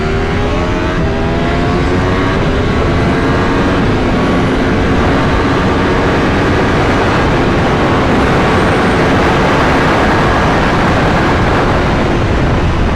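A Lamborghini-badged V4 motorcycle engine roars loudly and continuously on a race track, its tone rising and shifting through gears amid heavy wind rush.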